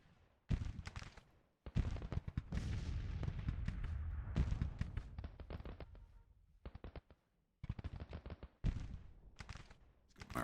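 Artillery fire in Grand Tactician: The Civil War, a rapid ragged barrage of booming cannon shots, some overlapping into rolling volleys and others single, with short silent gaps between bursts.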